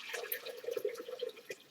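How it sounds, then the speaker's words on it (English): Raw milk poured from a container into a warmed crock pot for yogurt, a soft, close trickling and splashing pour over a couple of seconds, quiet and alone. "I'm going to pour the milk"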